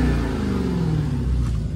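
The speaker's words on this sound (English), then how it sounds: "Shame on me, I didn't even give you guys an exhaust sample." A stock-exhaust 2018 Dodge Challenger SRT Demon revving, a loud, deep rumbling engine note held close and steady for under two seconds with a slight falling pitch.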